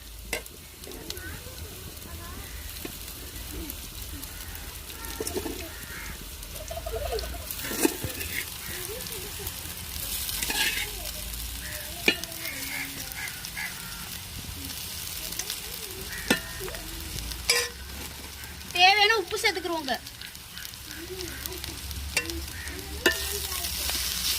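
Fish puttu is stir-fried in a pan, with continuous sizzling and frying hiss broken by scraping spatula strokes and occasional clinks, the stirring close and busy throughout.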